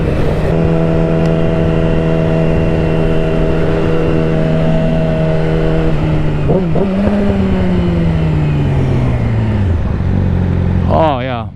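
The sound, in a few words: Yamaha R6 motorcycle engine revving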